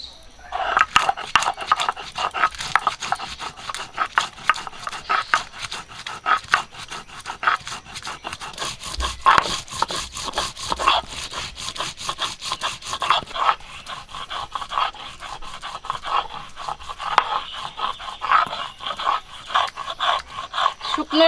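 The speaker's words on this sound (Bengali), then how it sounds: "শুকনো লঙ্কা আর গোলমরিচ একসঙ্গে বেটে নেব।" Dried chillies and black pepper are ground together into a paste, a rapid, repetitive rough scraping and rubbing that continues steadily and close by, with brief pauses in rhythm.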